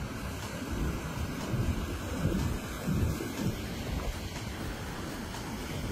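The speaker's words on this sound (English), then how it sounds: "just listen to that water" Waves wash and surge continuously at Belmont Beach, mixed with wind buffeting the microphone, with no one speaking.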